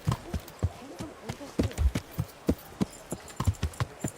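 Horse hooves clip-clop in an irregular, trotting rhythm in the video game Kingdom Come: Deliverance, crisp and fairly close, with someone talking over the hoofbeats.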